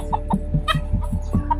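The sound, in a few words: rooster clucking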